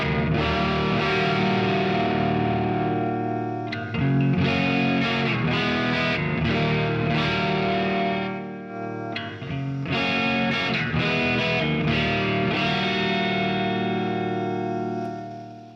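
An electric guitar plays through a distorted amp with a NUX Verb Core Deluxe pedal on hall reverb: loud, sustained chords ring out with a wash of reverb and a short pause before the strumming resumes.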